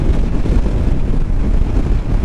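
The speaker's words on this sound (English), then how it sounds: "That wind's so strong" Strong wind roars steadily across the microphone while riding a Kawasaki KLR650 motorcycle on dirt, a dense, loud, continuous buffeting rumble with no voice.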